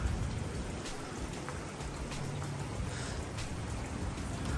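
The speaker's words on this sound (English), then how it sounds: "hopefully the rain stops here soon." Steady rain falls continuously on surfaces in hilly countryside near Dallas, Texas, a broad even hiss with scattered drops, moderately loud and unbroken, with no talk.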